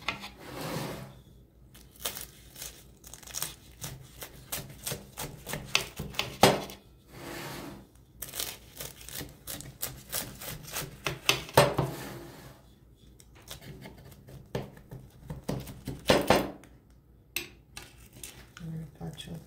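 A knife slices a freshly baked, crispy spinach filo-pastry roll (börek) in its dish, producing repeated close crackling crunches in irregular bursts with quiet gaps between cuts.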